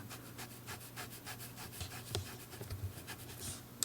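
A brush strokes green ink onto paper while painting a birch forest, making soft, close, rhythmic scratchy swishes in quick repeated strokes, quiet and heard alone.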